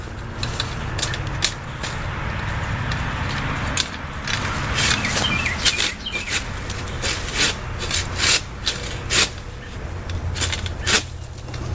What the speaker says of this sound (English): I'm going to attempt to saw off that limb.